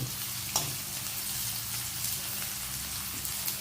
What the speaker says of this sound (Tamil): வெங்காயம் கொஞ்சம் வதங்கணும்